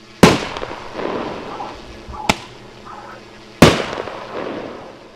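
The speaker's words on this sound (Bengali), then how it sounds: "যেটি কুকুরের ঘেউ ঘেউ শব্দ আর আতশবাজির শব্দ বাজিয়ে দূরে রাখছে ক্ষুধার্ত ভাল্লুকগুলোকে" Recorded firework bangs played from a bear-repelling drone over a fruit orchard in Hida, Gifu Prefecture, Japan: three sharp loud cracks, the first and last strongest with a smaller pop between, each trailing off into a noisy rumble.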